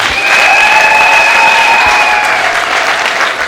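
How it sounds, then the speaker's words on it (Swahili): A church congregation claps together in loud, dense applause that holds steady for several seconds, with a sustained tone ringing faintly underneath. "Tumpe makofi mazuri sana."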